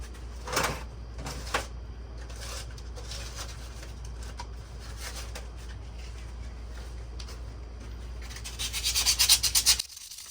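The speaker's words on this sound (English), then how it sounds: "I'm gonna lightly hit this with some sandpaper" Sandpaper lightly rubbing a small engine part near the fan shroud: a few brief scratchy strokes early on, then a quicker run of rhythmic rasping strokes toward the end, over a steady low hum.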